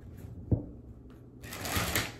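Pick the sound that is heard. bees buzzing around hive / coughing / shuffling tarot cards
shuffling tarot cards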